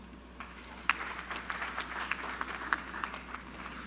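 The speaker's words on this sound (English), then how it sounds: "Give yourselves a round of applause." Scattered clapping from a campus audience at a sorority and Greek life gathering, a steady patter of hands that stays moderately faint and fairly even, with a few sharper claps standing out and no talking over it.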